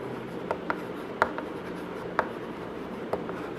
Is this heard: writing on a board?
yes